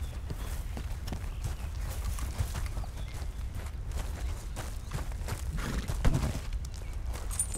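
A horse's hooves clip-clop steadily in Red Dead Redemption 2, a continuous rhythmic trot close by with a slight rise in loudness near the end.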